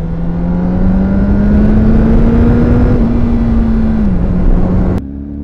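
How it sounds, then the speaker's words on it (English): A car fitted with a new exhaust gives off a loud, steady engine drone that climbs slightly, dips, then cuts abruptly to a quieter hum near the end. "I got an exhaust!"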